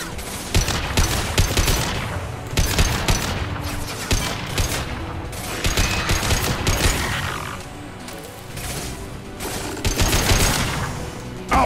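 Gunfire rattles through a firefight in the Mass Effect 2 video game, including pistol shots. Dense, repeated bursts of shots sound in rapid clusters with a few short pauses, loud and continuous over background game effects.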